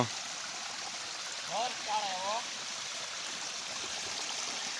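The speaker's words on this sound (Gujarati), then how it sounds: "આ સિરવાણ નું પાણી છે ને આ તો" A continuous soft rush of flowing spring water near farm fields fills the clip, fairly faint and steady, with a brief wavering tone in the middle.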